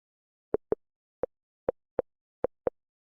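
A messenger-style animation sound effect from an After Effects toolkit: a series of short, soft plopping pops in an uneven quick rhythm, about eight in three seconds, heard alone and fairly quiet.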